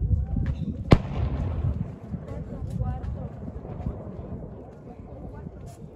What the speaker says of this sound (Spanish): Otro cohete, quinto lugar.